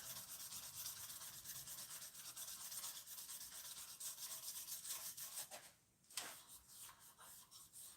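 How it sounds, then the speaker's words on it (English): Sandpaper sanding the finish on a handmade pen, a close, soft, continuous scratchy rubbing with quick back-and-forth strokes, briefly pausing before resuming in shorter rubs. "sand the finish through 9 different grades of sandpaper"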